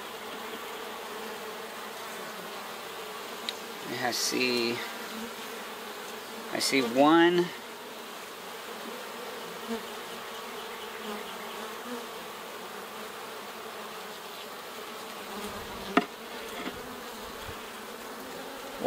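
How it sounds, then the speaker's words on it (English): Honeybees buzz steadily around an open hive during a hive inspection, with louder close passes of individual bees including big drones, and a person briefly speaks. "Lots of drone bees, lots of big male bees in this one."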